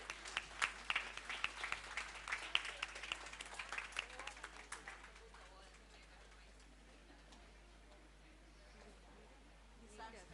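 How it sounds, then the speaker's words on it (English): An audience at a nursery and playgroup school annual day claps for the judges. The soft, scattered clapping lasts about five seconds, then gives way to a quiet room with faint murmuring. "Please give a huge round of applause for our judges."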